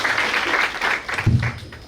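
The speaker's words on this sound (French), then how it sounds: "On applaudit pour vous, s'il vous plaît." Wedding guests applaud at a civil wedding ceremony, a steady burst of clapping from a small group lasting a couple of seconds, with a lower voice briefly murmuring underneath near the end.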